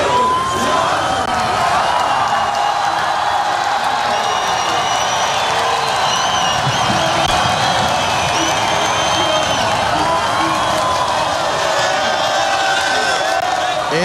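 A large beach crowd roars and cheers for the winner at the 2017 Oi Rio Pro surf contest final in Saquarema, Brazil, a continuous loud wall of shouts, whoops and clapping with an announcer talking over it.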